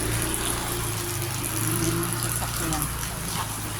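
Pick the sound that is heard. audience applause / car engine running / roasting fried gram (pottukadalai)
car engine running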